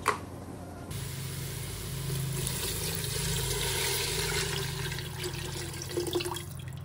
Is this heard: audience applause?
no